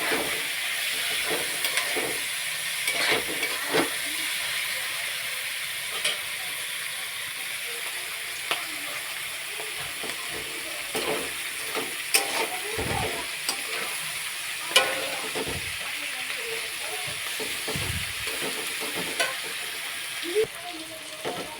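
Onions are stirred and fried in a pan for a Bengali mutton curry, a steady sizzle and hiss with irregular soft scrapes and clatters of the spatula, fairly close.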